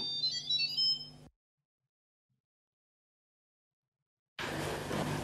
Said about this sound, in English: it also makes a little sound when the lid is closed, opened, and removed.